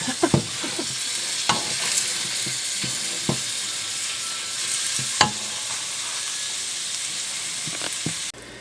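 Steady, loud sizzling hiss of chicken frying in a pot, with occasional sharp pops and crackles scattered throughout, close by and continuous.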